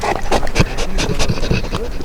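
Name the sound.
big dog panting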